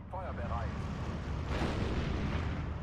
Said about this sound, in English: Here go my artillery.